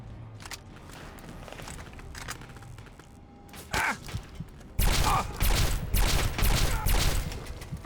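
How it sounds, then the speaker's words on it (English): Bursts of gunfire crack out in Fallout 3, sparse at first and then a loud, dense volley in the second half, over a low ambient game rumble with footstep-like clatter. "Still someone shooting at me."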